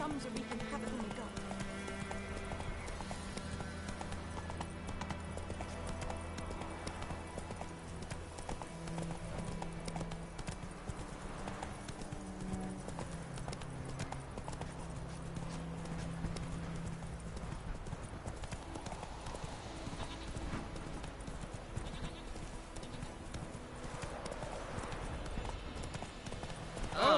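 Hoofbeats of the horse Roach galloping steadily through The Witcher video game world, a continuous clip-clop rhythm under game music, with occasional talk over it.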